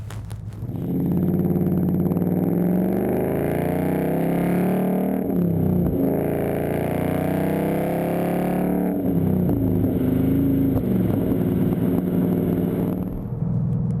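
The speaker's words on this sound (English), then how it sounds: "It's a muffler delete, so it's meant to be loud." A Ford Mustang GT with an MRT KR axle-back muffler-delete exhaust rumbles loud and close, its engine note rising and falling through several revs in a deep, raspy, continuous roar with no talking.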